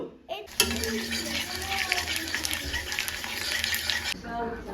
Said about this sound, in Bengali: পাঁপড় ভাজি